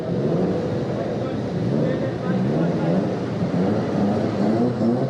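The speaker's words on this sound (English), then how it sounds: "Unmistakable sound of a Subaru Boxer engine." Subaru WRX boxer engines rumble steadily and low as cars leave a wintertime snow car show, a continuous throaty drone with people talking over it.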